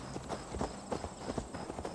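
Horse hooves clip-clopping in the video game Assassin's Creed Valhalla; a soft, faint run of steady hoof beats continues for two seconds with no talking.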